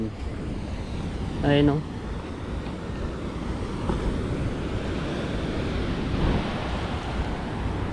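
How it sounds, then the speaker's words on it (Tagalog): Steady roar of big surf washing in broad waves on a beach, with wind buffeting the microphone and someone speaking briefly over it. "Tapos ang laki na naman ng alon."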